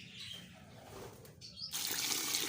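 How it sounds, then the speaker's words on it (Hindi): Water poured into a homemade calcium block mix for finches, heard as a bright, steady splashing pour that starts suddenly and runs loud to the end, with faint bird chirps in the background. "ये देखें, ये पानी डालना,"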